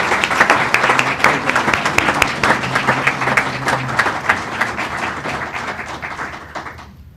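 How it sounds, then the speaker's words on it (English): Audience applause at a board of education meeting, dense crisp clapping from a room of people, sustained for several seconds before cutting off abruptly at the end. "Let's give them a big round of applause."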